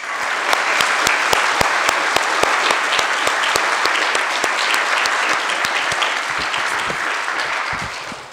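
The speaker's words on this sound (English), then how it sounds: "let's give them a big applause" A church congregation applauding a handbell choir at an Easter Sunday service, a warm, even patter of many hands with a few sharper nearby claps, sustained for several seconds before easing off.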